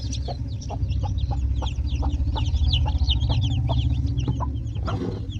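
Desi village chickens cluck softly over a chorus of high, repeated peeping from many chicks, steady and close.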